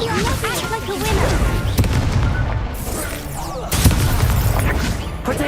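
Spell blasts in the Hogwarts Legacy video game, including fire and explosive spells, boom and crackle in a loud, dense barrage, with a voice shouting over the game sounds.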